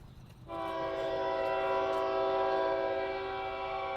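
A Norfolk Southern train horn blares in a long, steady, loud chord, starting abruptly after a brief quiet moment and sustained to the end.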